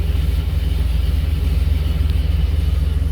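A car engine idles with a lopey, uneven idle, a steady close low rumble with a rhythmic loping pulse and no one speaking.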